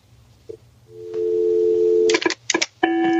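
A mobile phone gives off electronic tones during a call: first a steady sustained tone, then a series of short clustered beeps, near and clear, with no talking over them.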